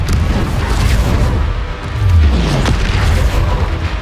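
Bombarda explosion spell in the Hogwarts Legacy video game, during a battle against a goblin attack on villages, heavy rumbling booms and crashes layered over continuous loud low-end combat noise.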